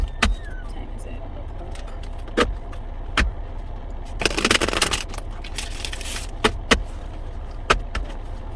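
A deck of oracle cards shuffled by hand, with repeated sharp riffling snaps and a dense flurry of card rustling midway, heard close over a quiet background.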